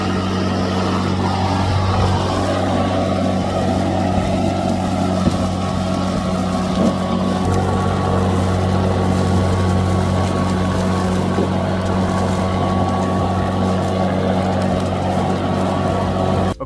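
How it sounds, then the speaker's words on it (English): A steady, droning motor whine from an electric lawn mower running continuously up close for the whole stretch, loud and unbroken, with no talking over it. "how do they handle that electric mower right there"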